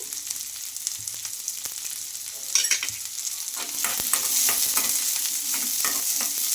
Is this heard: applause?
no